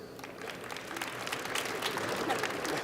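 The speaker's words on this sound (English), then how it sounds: "Please hold your applause." Commencement audience at a business school winter graduation applauding during faculty introductions, a fairly quiet, scattered clapping with crowd murmur mixed in.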